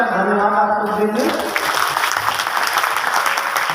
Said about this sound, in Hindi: आप लोग हृदय से साहिब बंदगी करते हुए ताली बजाकर धन्यवाद आप लोग देंगे